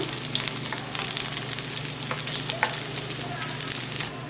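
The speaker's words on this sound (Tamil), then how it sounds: "பார்த்தீங்களா எப்படி சவுண்டு வருதில்ல மொறு மொறு வாழைக்காய் ஃப்ரை ரெடி" Raw banana (valakkai) slices frying crisply in a pan, a close, loud, continuous crackling sizzle with many sharp pops over a low steady hum, uninterrupted by speech.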